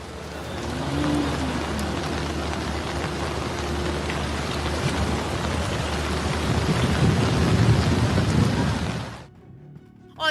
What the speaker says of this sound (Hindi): लगातार हो रही बारिश